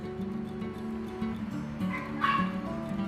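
A dog barks and yips a few times, faint and at a distance, over a steady low electrical hum during a microwave oven repair in the Philippines.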